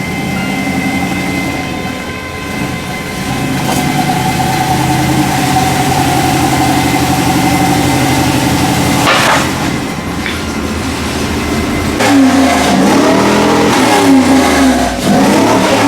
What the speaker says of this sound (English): So he is driving the Grand Prix over to the dyno.